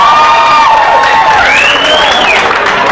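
A large comedy club audience cheers and whoops loudly, with applause and shouts blending into a sustained roar.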